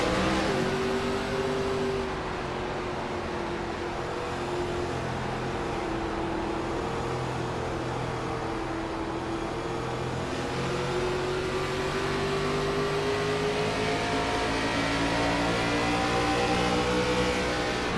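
Race car in a racing sim on the Milwaukee oval, a steady loud engine drone with gently shifting pitch as it enters pit road, alone without talk.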